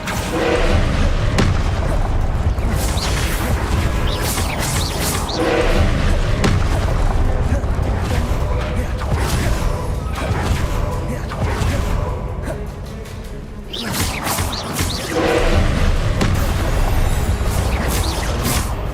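Confringo spell blasts in the Hogwarts Legacy video game produce repeated booming, thudding bursts that run loud and continuous, layered with other game combat sounds and spoken spell incantations.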